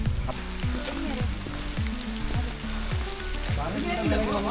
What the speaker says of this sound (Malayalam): ഇവിടെ മഴയുണ്ട്